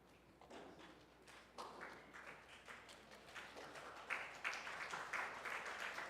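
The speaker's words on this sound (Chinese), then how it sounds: "让我们大家一同拍手欢迎一下" A church congregation claps in welcome for new members at an Easter Sunday service, a gradually swelling patter of many hands that grows louder and denser over several seconds, heard fairly distant in a large room.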